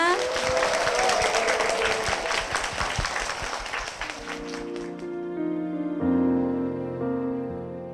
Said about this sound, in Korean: 그 가정 위해서 힘찬 박수 부탁드립니다